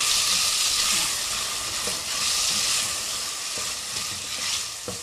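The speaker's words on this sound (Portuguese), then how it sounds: "Frite o camarão com azeite, o sal, pimentão picado e cheiro verde." Shrimp frying in olive oil with salt, chopped peppers and green herbs, giving a dense, continuous close sizzle with light stirring scrapes and no speech.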